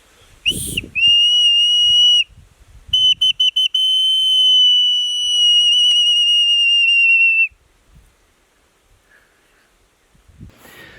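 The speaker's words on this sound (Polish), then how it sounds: "I powinno już gwizdać." A shrill, pure whistle blown from a bark whistle, first in a short blast, then quick staccato toots, then one long sustained note, close and loud.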